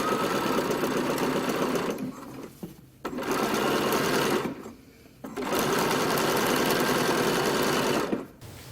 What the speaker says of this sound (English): Now we're stitching back up the opposite direction.